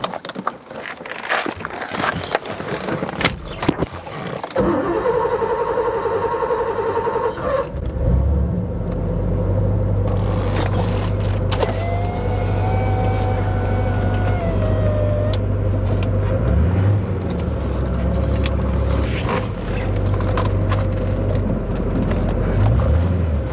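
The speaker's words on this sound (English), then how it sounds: "I'm going to take it for another drive" A 1978 Porsche 928 with a backdated single-mirror look, heard from inside as loose handling noises give way to the engine starting and settling into a steady low rumble while driving, with a rising whine partway through.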